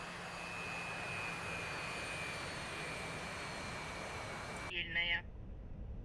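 A Su-27 Flanker jet engine in DCS World roars steadily after the throttles are cut back, a broad even rush with a thin whine, then it gives way to a short clatter and falls quieter.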